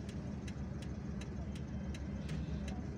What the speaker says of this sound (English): this is the commercial area of Kouba. There is traffic here.